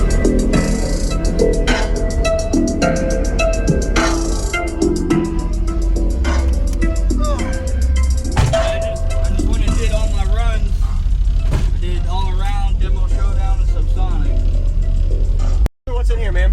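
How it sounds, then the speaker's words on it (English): Eight 12-inch Crossfire C5 subwoofers driven by a Crossfire 6K amplifier at half ohm in a car, producing a heavy, continuous low bass with music on top; a voice talks over it, and the sound cuts out briefly near the end. "Jorge, this is 8 12-inch Crossfire C5s, Crossfire 6K, wired at half ohm"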